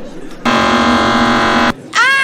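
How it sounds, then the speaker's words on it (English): A fire alarm blares a loud, steady buzzing tone for over a second, cuts off, then a sweeping electronic sound follows, close and harsh in an indoor comedy scene. "That's just a fire alarm."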